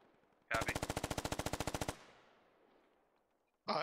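A short sustained burst of rapid machine gun fire in the military shooter game Squad, about a dozen and a half evenly spaced loud shots over roughly a second and a half, then a fading echo and quiet.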